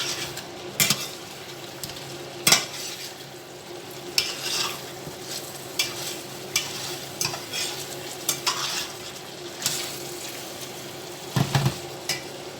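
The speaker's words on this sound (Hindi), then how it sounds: "मसाले मैंने डाल के रखे हैं, अब इसको भूनेंगे।" A spoon scrapes and stirs crushed cumin and spices frying in a pan, giving a soft steady sizzle broken by repeated sharp clinks of metal on the pan.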